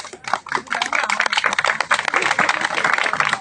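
An audience at a village political meeting claps, a dense, uneven patter of many hands close by, rising and falling across a few seconds.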